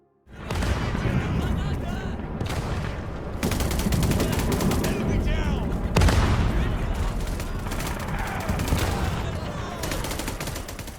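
Dense gunfire from a mobile World War I shooter game, sustained bursts of rifle and machine-gun fire with booming impacts, loud and continuous throughout, with faint speech underneath.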